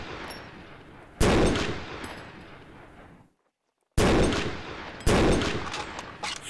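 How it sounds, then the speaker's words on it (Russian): Bursts of rapid gunfire from a zombie shooter video game come in three loud volleys, one of them cut by a brief total silence, with no talking. "ты посмотри, сколько выстрелов"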